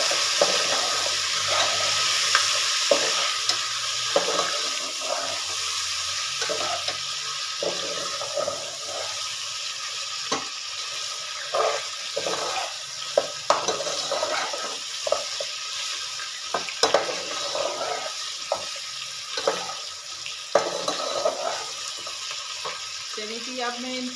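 Onions frying in a karahi while water is sprinkled over them, a steady sizzle broken by repeated stirring clatters and bursts of spattering, close and fairly quiet throughout.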